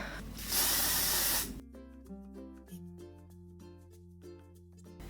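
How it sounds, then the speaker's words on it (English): Hairspray sprays onto hair in one loud, steady hiss lasting about a second, followed by quieter clicks and taps as the hair is styled. "I'm just going to spritz it again with some hairspray"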